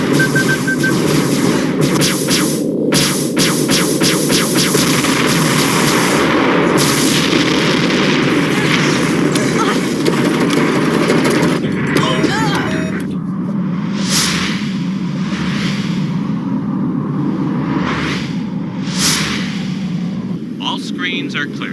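Dense weapons fire and heavy artillery booms roll on loud and continuous, with rapid gunfire bursts and voices shouting under the barrage.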